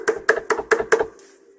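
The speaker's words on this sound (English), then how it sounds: "I decided to knock." Five firm, evenly spaced knocks land on a wooden door in the game Angels with Scaly Wings, close and clear, followed by a short quiet tail.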